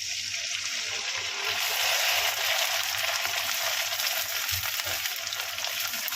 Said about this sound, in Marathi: अशा प्रकारे कुरवडी तळून घेते.